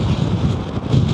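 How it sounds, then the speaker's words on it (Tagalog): Strong wind roaring over the rider on a Vespa GTS 300 scooter, a loud, steady, low buffeting rush close to the microphone, with no voices. "Sobrang lakas ng hangin."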